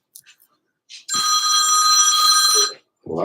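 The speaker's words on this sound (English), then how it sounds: "Got a phone call." A telephone rings in one sustained electronic trill lasting under two seconds, fairly loud and close, with brief bits of talk and room noise just before and a voice starting right after.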